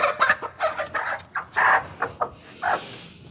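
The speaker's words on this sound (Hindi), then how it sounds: "मुर्गी निकल गई है, इसको दोबारा पकड़ने की कोशिश करते हैं।" A hen clucks in short, uneven bursts close by, with a few sharper squawks mixed in. No talking.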